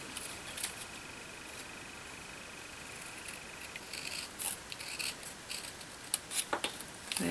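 Scissors cut through a Stampin' Up! party pop-up card with a cake design. A faint hiss at first gives way to a run of close, crisp snips and paper rustles toward the end, with no talking.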